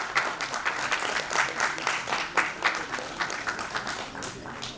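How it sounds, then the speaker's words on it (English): An audience at a leadership awards event claps as a speaker is welcomed, producing a dense, even burst of applause from a nearby crowd throughout. "Round of applause, please."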